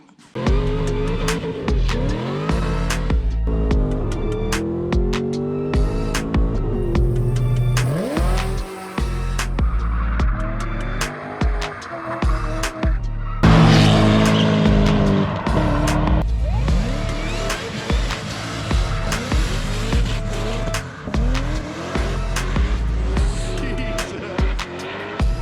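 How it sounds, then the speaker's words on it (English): A 1978 Chevy C30 Camper Special dually truck does a burnout, its engine roaring loud and close with sustained revving and tire squeal throughout, rising in intensity midway. "Well, I think it'll do a burnout just fine."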